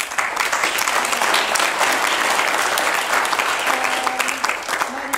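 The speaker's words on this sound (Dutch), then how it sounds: "Even een applaus voor alle drie." Audience applause at a harp competition's jury results announcement, a dense steady wash of many hands clapping throughout, loud and sustained with faint voices beneath.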